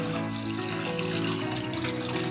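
Water runs steadily from a tap, pouring over eggs in a container to cover them for salting, a continuous dense rush with no pauses and no voices.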